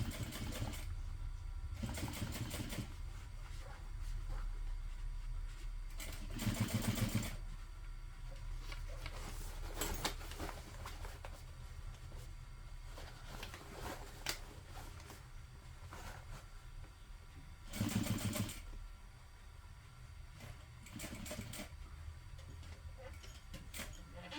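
A sewing machine stitches a garment seam near a back pocket in quiet, intermittent bursts of rapid mechanical whirring, separated by longer stretches of low, steady background hum.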